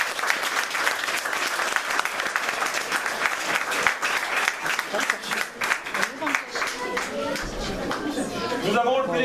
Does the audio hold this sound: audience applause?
yes